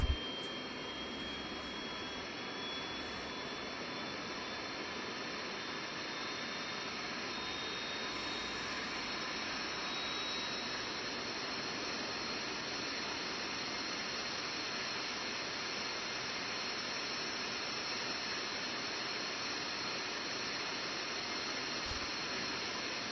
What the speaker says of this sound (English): I'm gonna get some water as this APU starts up. It's a very interesting APU sound.